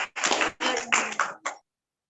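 Hands clap in a few short bursts for a participant at a children's online Independence Day event, close and brief, then silence.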